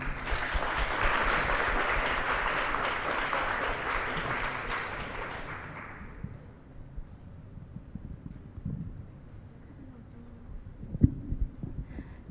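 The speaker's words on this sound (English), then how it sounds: "A round of applause for Ajahn Pimwipa, please" Audience applause at a TEDx youth event at a school, a dense clapping wash for about six seconds that fades away, leaving quiet room noise with a few faint knocks and shuffles.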